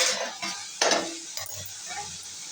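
Fresh mint leaves cooking in a pan for mint chutney give off a soft, steady sizzle with a few light stirring clatters and one louder scrape near the middle.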